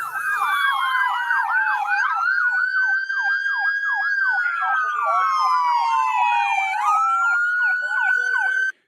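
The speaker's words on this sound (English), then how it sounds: "coming running up, woo, woo, woo, woo, with a siren on" A police car siren wails loud and close, cycling through rapid yelping warbles and then a slower rising and falling tone, continuous for nearly nine seconds without talk.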